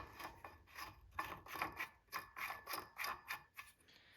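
A part is screwed back onto the lower unit of a 55HP Chrysler outboard motor, giving a rhythmic series of ratcheting, scraping turns at close range, roughly a dozen repeated strokes without speech.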